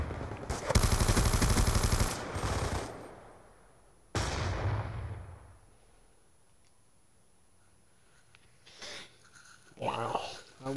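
Rapid gunfire from the video game Black Ops 2, a loud dense burst at the start, then another sharp shot fading into a quieter stretch, with brief later bursts; a voice talks over parts of it.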